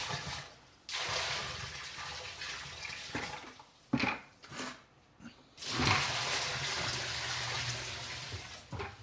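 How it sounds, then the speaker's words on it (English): Water pours and gurgles as a sump pump, powered by an OUKITEL P1000 Plus portable power station, takes it in, splashing in bursts with short pauses, then settling into a steady rushing flow. "I've got it hooked up here to the sump pump, and I've just got some water"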